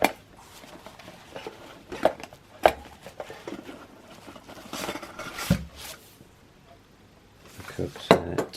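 Pots from a camping cook set are handled up close, giving irregular metallic clinks, knocks and rattles spaced through the moment while a person talks.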